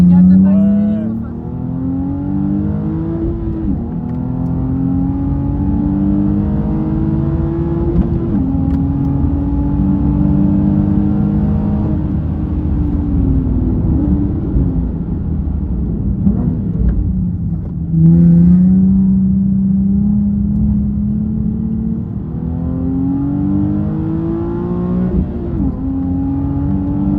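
A Nissan 370Z Nismo accelerates around the Croix-en-Ternois race track, its engine droning loudly from inside the cabin with repeated pitch rises and drops through gear changes, while people talk over it.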